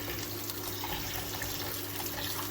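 Tap water runs steadily while fish is washed in a home kitchen, a constant hissing rush with no pauses and no talk.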